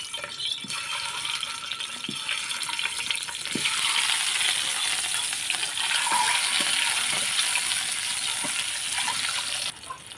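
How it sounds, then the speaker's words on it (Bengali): Beaten eggs frying in hot oil: a loud, steady crackling sizzle that fills the whole stretch, growing slightly denser midway, with faint occasional taps underneath. "এখন তেলটা গরম হয়ে গেছে। এখন আমি ডিমগুলো দিয়ে দিলাম।"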